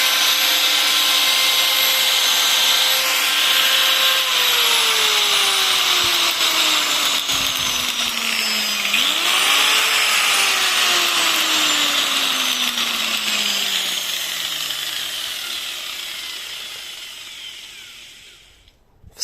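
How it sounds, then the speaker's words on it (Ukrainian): An angle grinder powered from a 2000W 12V inverter whines steadily for a long stretch, its pitch sliding down and back up before it spins down and stops. "І болгарка"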